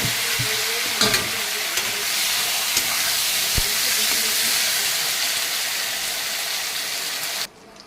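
Eggplant pieces frying in hot oil with dried red chili and black cumin, a loud steady sizzle with a few clacks of stirring, close up, cutting off abruptly near the end.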